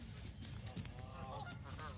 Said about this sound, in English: There's the geese, look at that.